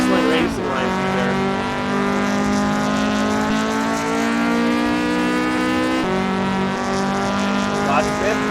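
An AE-86 race car in a sim racing game at Lime Rock, engine droning steadily at high revs with harmonic whine as it takes a chicane with two wheels off, loud and continuous throughout.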